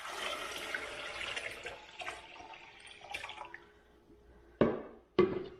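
Water is poured into a pressure canner for canning green beans, making a soft running splash that fades out. Two sharp metallic clanks follow near the end.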